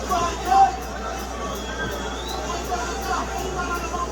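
Low murmur of a large UFC arena crowd during a heavyweight bout, a steady hum of chatter and scattered voices with a brief swell near the start, no single sound standing out.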